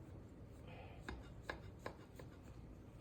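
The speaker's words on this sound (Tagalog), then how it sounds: "Hiwain ko muna sa gitna." A knife cuts down through the middle of a soft, spongy banana cake baked in a rice cooker, giving a few soft, separate thuds and crumbly cuts, close by and fairly quiet over faint room noise.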